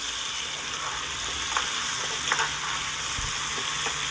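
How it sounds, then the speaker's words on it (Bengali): Potatoes and brinjal frying in a covered pan, a constant close sizzle with small pops and faint clinks, no talk. "দেখুন আলু আর বেগুনটা বেশ ভাজা ভাজা হয়ে এসছে"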